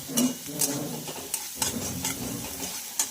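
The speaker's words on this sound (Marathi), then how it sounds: "हे सुद्धा छान यामध्ये मिक्स करून फ्राय करायचं आहे" An egg fried rice mixture seasoned with salt and pepper sizzles in a pan while a spatula scrapes and taps it in a quick irregular rhythm, close by.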